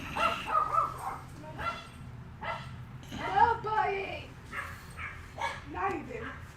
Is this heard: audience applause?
no